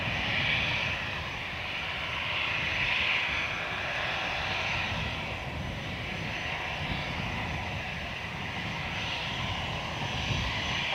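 A jet airliner takes off from runway 10 at Dublin Airport, giving a steady, broad roar of engines heard from a distance that holds an even level throughout without fading.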